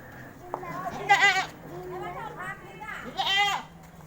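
Goats bleat several times in quick wavering calls, close and fairly clear over a quiet outdoor background, with a person speaking in between.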